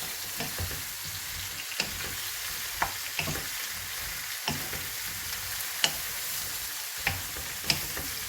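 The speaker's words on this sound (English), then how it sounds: "So put the meat in, mix it all up." Crispy meat fries and sizzles loudly in a pan as it is mixed, a continuous hiss punctuated by regular scraping clacks of the utensil.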